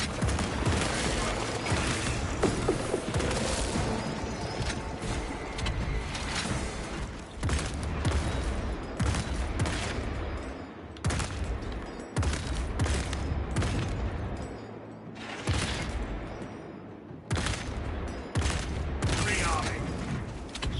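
Heavy volleys of fire in the Warhammer 40,000: Space Marine 2 game, sustained booming bursts of gunfire with repeated sharp blasts through a loud, dense battle roar, with occasional voice.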